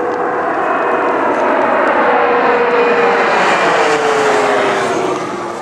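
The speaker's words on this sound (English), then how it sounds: "No, it's just some plane." A fixed-wing airplane passing overhead near the Mexico border outside Tucson, a loud sustained engine roar that swells to a peak midway and begins fading at the end, heard alone.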